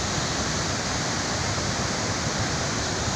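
Steady broadband rush of the Bogata waterfall in Telangana, a continuous roar of falling water filling the whole scene, close and constant with no break and no voices.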